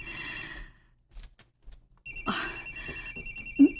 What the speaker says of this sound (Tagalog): Nanawag si Alejandro